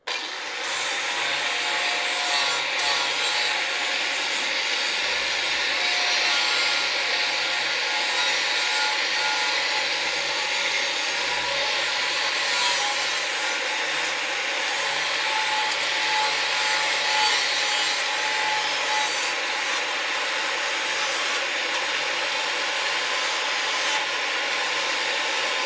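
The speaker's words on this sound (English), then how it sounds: "Here's my flap disc. Headphone users, this thing is loud." Flap disc grinding and sanding a car body panel during a Charger restoration, a continuous loud abrasive whir and rasp held close and steady the whole time.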